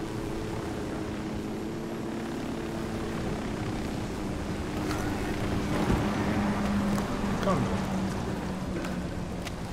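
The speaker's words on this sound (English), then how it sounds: "Your private helicopter is here." A helicopter arrives in the video game Ghost Recon Wildlands, a steady droning rotor and engine hum that grows somewhat louder, with in-game voices talking over it.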